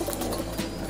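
Andalusian pigeons give a soft, close coo over a steady hum of a loft, brief and continuous for under a second.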